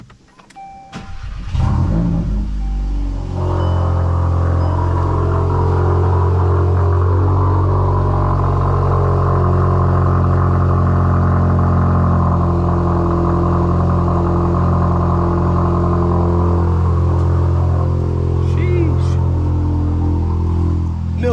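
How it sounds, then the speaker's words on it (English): A Volkswagen MK8 GTI cold-starts with a brief cranking whir that catches into a steady, loud, fast idle, the exhaust droning evenly and close for about twenty seconds with no talking. "Let's get a cold start."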